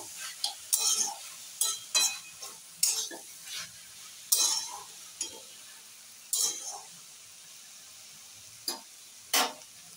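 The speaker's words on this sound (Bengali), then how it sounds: "দিয়ে এটাকে নাড়তেই থাকতে হবে।" A spoon stirs kulekhara greens with sugar in a pan, giving sparse scraping and clinking strokes against the metal over a faint sizzle, irregularly spaced and close by.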